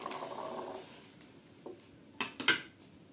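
Butter dropped into a hot pan for a butter bean and potato milk curry hisses and sizzles softly, with a few sharp clinks of a spoon or utensil against the pan toward the end.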